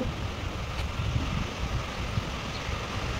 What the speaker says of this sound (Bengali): দেখুন ভালোই বৃষ্টি এসে গেছে, আর হাওয়াও দিচ্ছে।